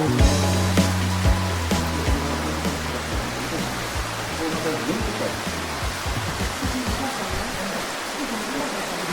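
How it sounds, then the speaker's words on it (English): Waterfall at Nidri in Greece, a steady broadband rush of falling water close by that holds loud and even throughout, with some voices and low tones heard near the start. "And here is the waterfall."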